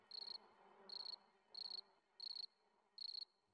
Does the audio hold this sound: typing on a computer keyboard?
no